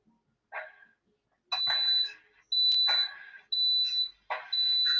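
A clothes iron gives a series of high, steady electronic beeps in repeated bursts of about half a second to a second. Faint household clatter comes between them, and the beeps are fairly loud and close.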